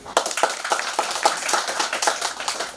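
A crowd at a political campaign speech for regional head candidates claps in a quick, steady rhythm, close and fairly loud, each clap crisp and evenly spaced, with no voices over it.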